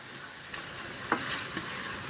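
Beef roast cooks in a pan with a soft, steady sizzle, broken by a few faint scrapes of stirring.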